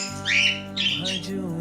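Birds chirping along a forest path to a cave, a couple of bright, close calls over a steady low hum.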